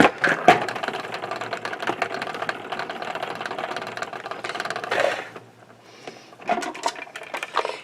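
A salad spinner whirs with a wet watercolor card inside, a close, rattling mechanical spin that runs steadily for about five seconds, fades out, then starts again in a shorter burst.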